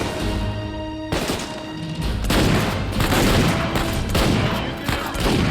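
Dense gunfire from an in-game firefight in Uncharted 4, with a steady rattle of shots, booms and crashing impacts throughout, loud and close, with a brief lull near the middle.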